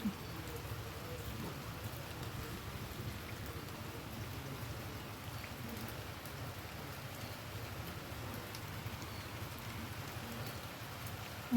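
Heavy rain pours steadily on surfaces outdoors in a garden, a dense unbroken wash of noise with no voices, holding evenly throughout.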